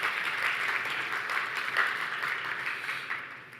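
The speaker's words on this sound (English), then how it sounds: "maybe give them a round of applause." Steady applause from a conference audience, a dense wash of many hands clapping at an even level for a few seconds.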